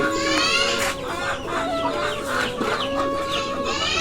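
Domestic desi chickens on a small Bangladeshi farm cluck and squawk continuously at close range, several birds overlapping in busy, uneven calls.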